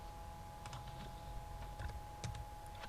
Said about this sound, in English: you could write your content right now if you wanted and just start typing